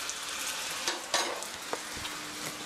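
Garlic sautés in olive oil in a pan for spaghetti aglio e olio, with a steady close sizzle broken by a few sharp clinks and scrapes of stirring.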